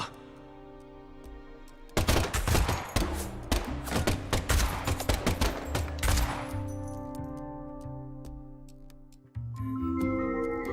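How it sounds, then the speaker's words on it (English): Rapid burst of gunfire in the video game Deadly Premonition 2, a dense volley of sharp shots for several seconds over a sustained musical score, then dying away as the music continues. "And the last gunshot we heard sounded ominous, Zack."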